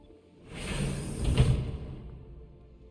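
A sci-fi spaceship door in The Expanse slides open with a swooshing mechanical hiss and a thudding clunk midway, then fades out, heard alone.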